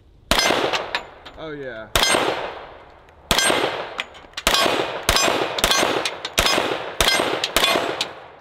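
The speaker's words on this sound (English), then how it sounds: "very first shots, let's see if it works." Gunshots from a newly tested gun: about nine loud, sharp, close reports spaced roughly a second apart, each with a ringing metallic tail, and a brief spoken exclamation between the early shots.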